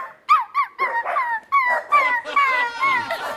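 A person mimics a dog on a television programme set, giving a quick run of high, whining yips and yelps, about ten short bursts in an uneven rhythm, close and fairly loud.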